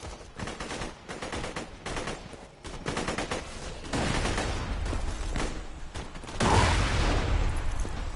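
Rapid gunfire and heavier grenade-launcher blasts from the video game Borderlands 2, firing in bursts with short gaps, then a louder sustained barrage near the end.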